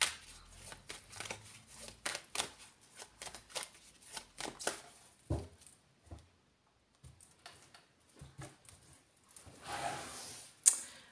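Oracle cards are shuffled, tapped and laid out on a surface, making quiet close papery flicks, slides and taps in irregular bursts with a short pause midway and a louder rustle near the end.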